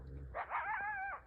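A farm dog gives a single drawn-out, tonal bark-whine, brief and moderately close against a quiet outdoor background.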